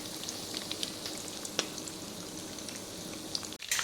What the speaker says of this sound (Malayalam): നമ്മുടെ കാടി ഇവിടെ വെന്തുകൊണ്ടിരിക്കുകയാണ് നന്നായിട്ട് ഫ്രൈ ആയി വരുന്നുണ്ട്